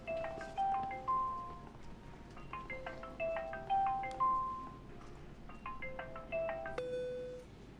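A phone ringtone plays a repeating electronic melody, several short phrases separated by brief pauses, clear and moderately loud with no talking.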